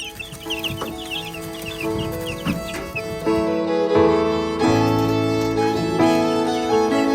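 Baby chicks outdoors chirp and peep in quick, high clustered calls alongside fuller clucking from chickens, fairly close and lively, with a steady tonal hum running underneath and no talking.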